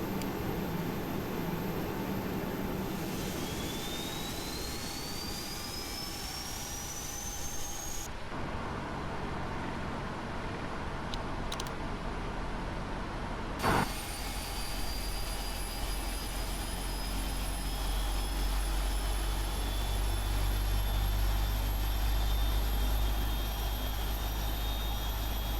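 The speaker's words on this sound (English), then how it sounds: "Start right engine. Engaging starter 2." Right jet engine of a PMDG 777-200LR starting up in the FSX flight simulator: a steady spool-up whine rising in pitch, a cut in the noise, a sharp click, then a higher sustained turbine whine and low rumble.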